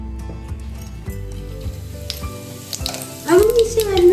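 Mustard oil heats and sizzles in a kadhai, a close frying crackle with scattered metallic clinks that swells louder near the end.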